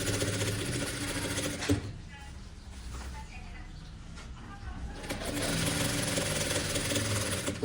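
A sewing machine stitching a vest seam runs in fast whirring bursts that pause midway and then resume, with someone talking quietly over and between the runs.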